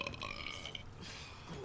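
A single long, low, croaking burp rumbles on for well over a second, close but fairly quiet, with no speech around it.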